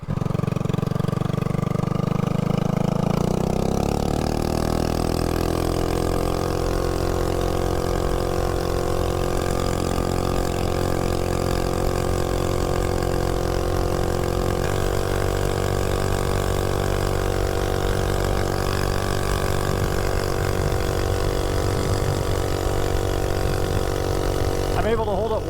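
An MB 200 mini bike with a 196 engine is held at full throttle. Its loud, buzzing engine note climbs in the first few seconds and then holds high and steady, with a rider's voice briefly over it.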